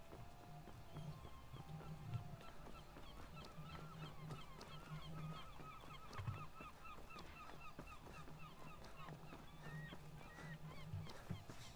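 A chicken in modded Skyrim clucks and honks repeatedly in short nasal bursts, set against a busy ambient background with soft clopping steps and scattered clicks.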